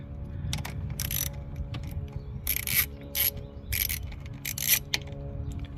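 A hand ratchet turning a 13 mm socket on a tight bolt in the engine bay of a BMW Z4 during a charge pipe repair: repeated bursts of quick metallic clicking between pauses, close and clear over a steady low background hum.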